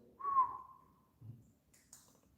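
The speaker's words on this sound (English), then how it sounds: "There was a whistle while you were talking." Single faint whistle heard during a ghost hunt in a county museum, a short steady tone that fades, followed by quiet low thumps and a soft hiss.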